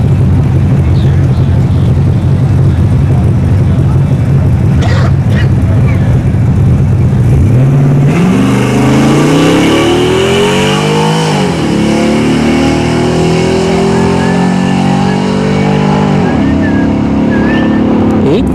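A Chevrolet S10 with an LS engine launches on a drag strip, a loud idle giving way to a hard rising rev through several gear changes as it pulls away. Voices speak faintly under the engine.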